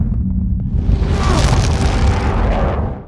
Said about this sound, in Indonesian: Ledakan tidak bisa dihindari oleh Bartolomeo